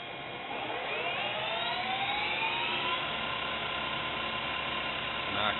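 A Harrison Alpha 1550 lathe runs in medium gear with a top speed of 600 RPM. Its steady mechanical whir and gear whine climb in pitch as the spindle spins up, loud and close, with no other sound on top.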